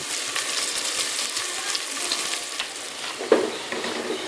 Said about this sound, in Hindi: प्याज को लाइट ब्राउन करेंगे।